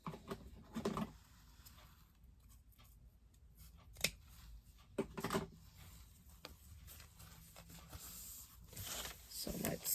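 Scissors cutting fabric for a lined poop bag holder, a few distinct crisp snips spaced across the clip, close and moderately loud, with some handling rustle and a person talking in between.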